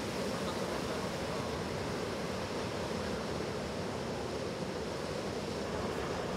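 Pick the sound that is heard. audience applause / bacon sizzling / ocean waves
ocean waves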